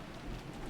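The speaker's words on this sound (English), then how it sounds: "It's raining." Steady, dense rain falls in the Umineko video game, a continuous soft hiss with a low rumble underneath and no distinct drops or pauses.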